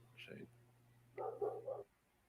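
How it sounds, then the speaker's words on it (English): A black Labrador barks once, then lets out a quick burst of three close, loud barks over a low electrical hum. "You got my dog excited."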